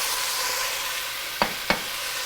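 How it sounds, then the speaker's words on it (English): Potatoes and baby carrots fry in hot oil with a loud, dense, unbroken sizzle close by, punctuated by two sharp clacks of a utensil against the pan near the end. "we're going to add 2 potatoes and baby carrots"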